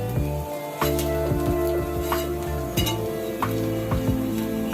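Raw home-remedy ingredients for a rainy-season cold sizzle steadily in a pan, with several sharp metallic clinks and scrapes as they are stirred close up.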